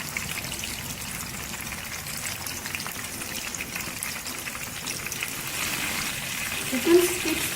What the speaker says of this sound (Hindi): चिकन स्टिक्स को हम मीडियम फ्लेम पर फ्राई कर रहे हैं।